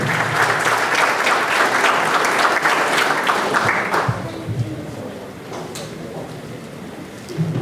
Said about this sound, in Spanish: recibamos con un fuerte aplauso a la doctora Elisa Blas